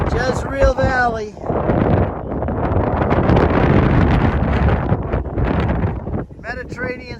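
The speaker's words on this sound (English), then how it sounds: "It's windy today" Strong wind buffets a hilltop lookout over the Jezreel Valley near Nazareth and Mount Tabor, roaring loudly and unevenly for several seconds. Someone talks briefly at the start and again near the end.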